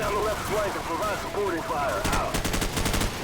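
Rapid automatic gunfire bursts in the video game Call of Duty Modern Warfare, loud and continuous, with sharp repeated shots and whistling effects, someone talking excitedly over the battle.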